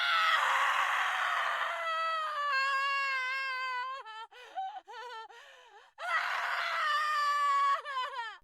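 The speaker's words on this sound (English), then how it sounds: "the girl let out the most chilling, most heart-stopping scream" A girl's chilling, heart-stopping scream rings out as long, high, wavering wails that break into shorter cries partway through, then swell into a final loud shriek, alone with no other sound.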